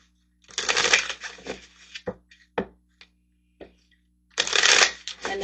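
Tarot cards are shuffled in two loud riffling bursts, separated by a few soft taps and slaps of the deck being squared, close to the listener, with no talking.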